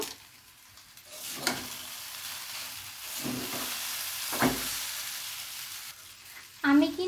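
Stick noodles with masala sizzle in a frying pan under steady hissing, broken by several scraping stirs of a spoon against the pan. A brief louder clatter comes at the end.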